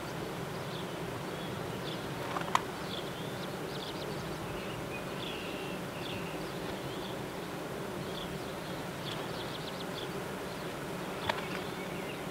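Honey bees buzz around beehives with a continuous, even drone, joined now and then by individual bees flying close past, and no voices.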